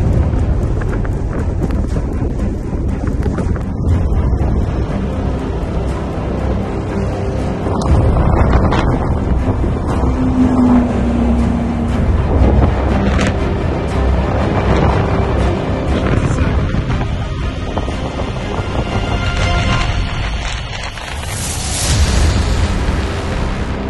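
Strong gusting wind buffets a cyclist on a sandy desert road in Peru, a loud continuous rumbling roar with surges and dips that goes on throughout.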